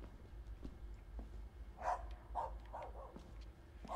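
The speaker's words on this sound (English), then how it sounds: "Maybe the dog is trying to tell me something?" A dog in the horror game Lust From Beyond barks several times from a distance, short muffled yelps spaced irregularly over a low droning ambience.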